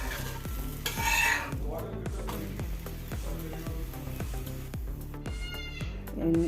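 Wheat dosa cooking on a pan with a little oil drizzled around it gives a steady sizzle beneath a rhythmic, pulsing musical backing, with brief louder swells.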